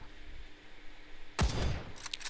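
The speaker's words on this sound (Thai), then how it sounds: "เนี่ยได้ยินเสียงปืนแถวเนี้ย" A single loud gunshot in the video game Mini World Royale bursts out of a quiet background, followed by a few fainter sharp cracks trailing off.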